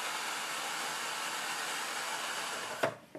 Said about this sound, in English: This is the only hairdryer I own and I've ever owned.